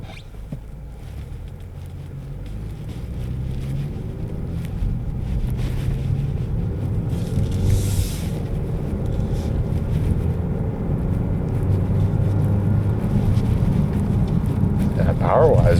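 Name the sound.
2024 Genesis G70 2.5T AWD accelerating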